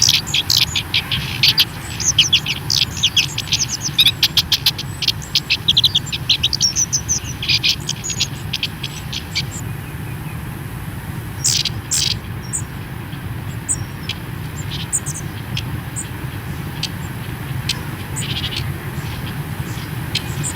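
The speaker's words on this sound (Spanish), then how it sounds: "Y el sonido que hacen los mitos," Long-tailed tits give repeated thin, high chirping calls in quick bursts over a steady background of outdoor hum, the calls busiest early and thinning out later, moderately close.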